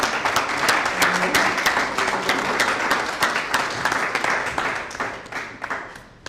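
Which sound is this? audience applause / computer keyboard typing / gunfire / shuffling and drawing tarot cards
audience applause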